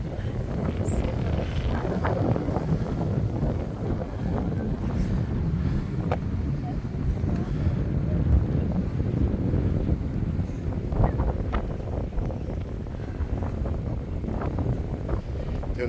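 Strong wind gusting at Lagoa da Conceição lagoon in Florianópolis, a steady loud rumble buffeting the microphone for the full length, with faint distant outdoor sounds underneath and no speech.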